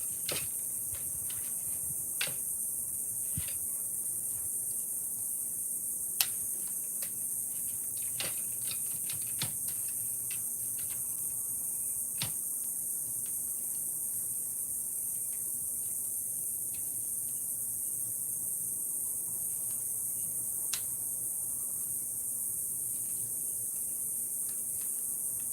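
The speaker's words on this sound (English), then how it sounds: "Oh, I hear the cicadas go." A steady high-pitched insect drone hums continuously throughout, with scattered faint clicks and taps beneath it, no talking.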